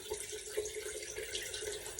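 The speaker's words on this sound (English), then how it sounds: "you can just simply splash the water on your face" Quiet running water from a tap, splashed onto a face, with soft splashing and trickling close by and no voices.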